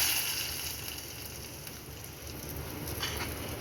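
Ghee tempering of mustard seeds, dried red chillies and curry leaves poured into dal for Andhra-style tomato pappu. It makes a steady, soft crackling sizzle that runs throughout at a fairly low level, with no talk.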